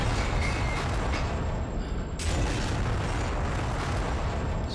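Shells burst against an M4A2 Sherman tank in IL-2 Tank Crew under fire from Flak 37 8.8 cm anti-aircraft guns, giving a dense, loud, continuous rumble of explosions and impacts with no clear gaps.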